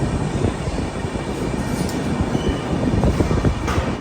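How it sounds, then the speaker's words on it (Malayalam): A passenger train pulls out past platform 1 at Madurai Junction railway station, a steady loud rolling rumble of wheels and carriages filling the whole stretch without pause. "വണ്ടി എടുത്തു."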